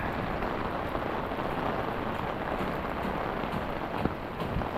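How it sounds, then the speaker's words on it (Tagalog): Steady rain falls outdoors at a construction site, a dense, even hiss of drops on surfaces with no talking. "Ayun, ulan ulit."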